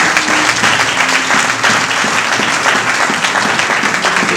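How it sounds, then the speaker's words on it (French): A church congregation clapping for the Lord during a worship service, dense loud sustained applause from many hands throughout, with faint voices mixed in. "Clap for the Lord."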